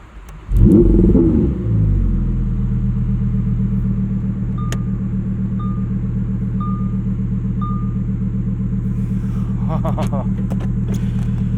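A 2021 Lamborghini Huracán EVO Spyder's V10 engine cranks and fires up with a loud burst, then settles into a deep, steady idle rumble with a few faint beeps.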